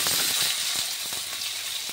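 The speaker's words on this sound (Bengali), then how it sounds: "আমি আগে থেকে কেটে ধুয়ে রাখা আলুগুলি এবার ভাজতে দিয়ে দিচ্ছি" Cut, washed potatoes frying in hot oil in a wok, a steady bright sizzle with faint crackles throughout, close and uninterrupted.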